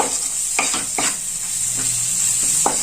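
Prawn chop masala sizzles steadily in a pan while a spatula stirs it, and several distinct scraping strokes cut through the constant frying hiss.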